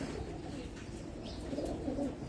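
Pigeons on a rooftop in Abu Dhabi cooing softly and steadily, with low murmuring calls over a continuous background hum and no talk.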